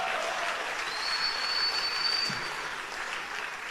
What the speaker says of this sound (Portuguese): Se for para Jesus, pode dar um aplauso